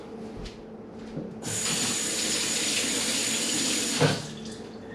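Tap water runs into a kitchen sink to wash mushrooms, a steady close rush that starts suddenly, flows for a few seconds and cuts off with a brief splash.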